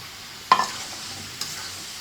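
Vegetables tipped into a pan of sizzling spice masala give two sharp splashy hisses, then a low steady frying sizzle close by.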